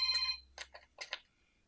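A telephone rings nearby in a quiet room, one electronic trill at the start followed by a few shorter chirps, with a low hum underneath.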